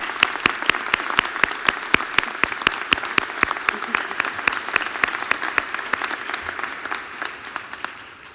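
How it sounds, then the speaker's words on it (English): A commencement ceremony crowd applauds steadily, with dense clapping from many hands that carries on for several seconds before tapering off slightly at the end. "Please, let's give them a round of applause."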